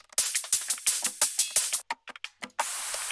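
Neurofunk drum-and-bass percussion loop built in FL Studio, a fast, bright run of crisp hits with a hissy, spray-like texture, loud and up front, breaking into sparse hits before a sustained noisy burst at the end.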